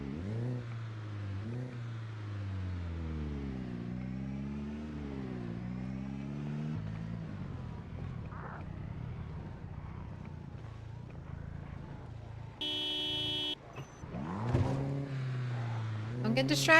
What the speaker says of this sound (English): I'm honking the horn. I'm being loud.